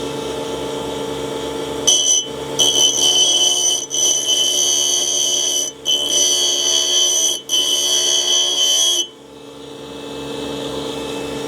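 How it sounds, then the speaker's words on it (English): A bench grinder runs with a steady high whine while a drill bit is touched up by hand against the wheel, the tone dipping briefly at several points as the bit is pressed and lifted. "I'm just going to go by hand and touch this drill up on the grinder over here"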